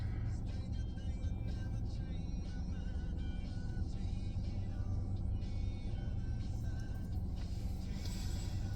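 Steady engine hum and road rumble from inside a moving car, a continuous close drone with tyre and wind noise throughout and no other sounds standing out.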